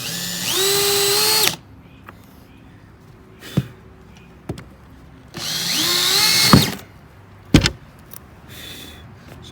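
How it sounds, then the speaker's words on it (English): A power drill pre-drilling a hole while rod holders are installed on a bass boat: two loud whirring bursts that rise in pitch, separated by quiet pauses with scattered clicks and knocks. "I'll pre-drill 1 hole, and then I'll line it up"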